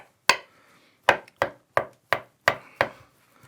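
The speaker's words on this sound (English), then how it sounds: "So I'm just going to, loads of small dices really" A knife dices leftover cooked beef on a board for a cottage pie, with seven crisp, close chops that come in quick succession after a short pause.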